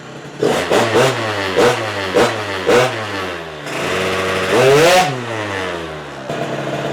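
A Malossi RC-One 94cc race engine on a Piaggio GP1 scooter revs hard in a string of sharp, rising blips, then holds a longer high scream before dropping back, loud and close with no talk.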